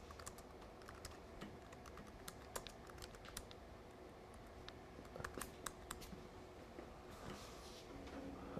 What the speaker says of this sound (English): I've got no idea what I'm typing